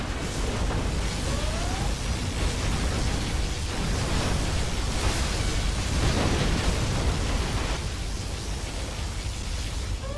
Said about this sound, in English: Particle cannon activated.